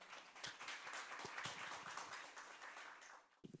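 An audience claps steadily in welcome at a Korean launch ceremony, a dense, continuous patter of applause filling the room for several seconds before tapering off near the end, with no one speaking over it.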